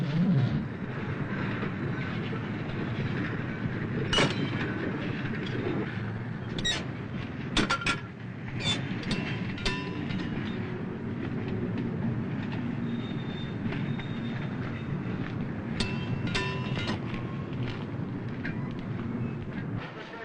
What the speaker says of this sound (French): les wagons sont attelés manuellement après qu'un engin de manœuvre les ait amenés sans heurts au contact